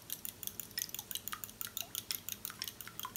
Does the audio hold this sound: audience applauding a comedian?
no